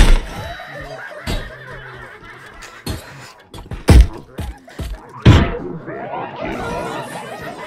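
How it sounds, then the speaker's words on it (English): In the game Gorn, a thrown weapon lands with several heavy slams and thunks at irregular intervals, mixed with chuckling and laughter and some talk. "it works okay as a throwing weapon."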